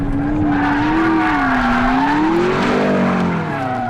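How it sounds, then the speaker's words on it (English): A McLaren 650S slides sideways on a race track with a sustained loud squeal of tyres over the roar of its engine, the pitch rising and falling as the drift goes on. No one speaks. "It does do the sideways stuff really rather nicely, does the 650S"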